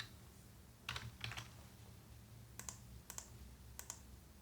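Short bursts of clicky keystrokes on a computer keyboard while CSS code is typed, a quick double cluster followed by three brief spaced taps, close and fairly quiet in a still room.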